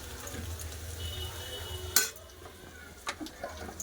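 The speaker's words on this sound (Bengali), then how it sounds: "আলুর সাথে মশলাগুলো একটু ভালো করে কষে নেব" Potatoes fry in a pan with coriander, chilli and turmeric powder and salt, a low steady sizzle under scraping stirs and a couple of sharp utensil clinks against the pan.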